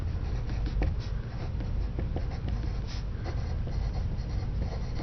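Pencil scratching numbers onto paper in short strokes, close and fairly quiet against a low steady background hum, no talking.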